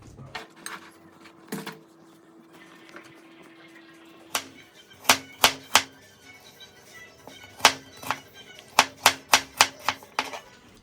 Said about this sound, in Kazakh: ал мен алманы тазалап, ұсақтап тура берейін.